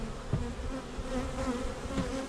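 Honeybees buzz close by while a new hive is being installed, a continuous droning hum with individual bees passing near, steady and moderately loud.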